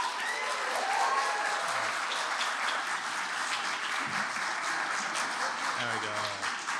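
An audience at a summer capstone project showcase event claps steadily and loudly to vote for a team, a dense sustained round of applause with a voice briefly heard over it.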